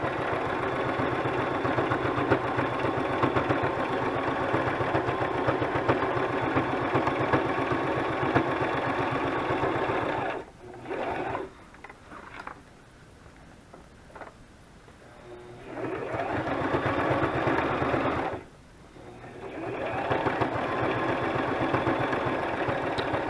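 A sewing machine runs a straight stitch on a blue lace journal, a steady mechanical whir that stops briefly twice midway, then resumes, fairly quiet with no voices.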